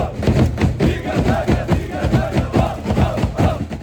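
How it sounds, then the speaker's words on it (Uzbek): Andijon football fans chant the Ziga Zaga together in a stadium during a Paxtakor versus Andijon match, a dense, loud crowd roar with rhythmic shouted pulses running steadily throughout. "Muxlislar esa o'sha mashhur Ziga Zagani boshlab yuborishdi."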